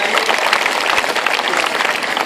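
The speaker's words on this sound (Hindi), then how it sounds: "जोरदार ताली बजाइए" Loud, dense applause from a village audience honouring a guest at a gathering in Karamha Hansuli, a steady wash of many hands clapping close by throughout.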